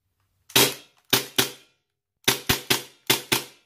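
An MP9 A3 airsoft gun fires sharp, snappy shots indoors in a bedroom: one shot, a pair, then two quick bursts of three, each crack loud and close with a short decay between short silences.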